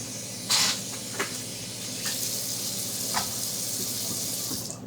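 Tap water sprays steadily into a sink while raw chicken is rinsed for homemade dog food, a continuous hiss with a few brief splashes and knocks as the meat is handled.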